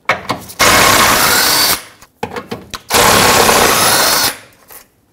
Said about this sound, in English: To disconnect this cross member from the main subframe, we have to take out these two 14 millimeter bolts.